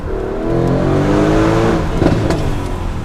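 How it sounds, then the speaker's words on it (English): A 2018 Mercedes-AMG GLC 63 S Coupe engine roars as it accelerates hard, the exhaust note rising steadily in pitch through second gear, close and unmuffled. "So we'll get a good second gear pull, see what it sounds like and feels like."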